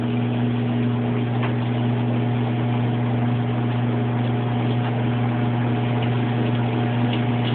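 A washing machine runs with its clutch not engaging, giving off a steady, even motor hum with a constant drone and no rise in speed, close and alone without voices.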